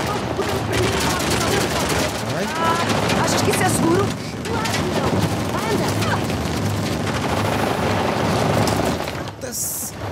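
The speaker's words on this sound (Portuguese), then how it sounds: "levar tiros para caraças" Gunfire in the video game Uncharted: The Lost Legacy, dense bursts of shots and booms running loud and continuous through the whole stretch, with a player talking over it.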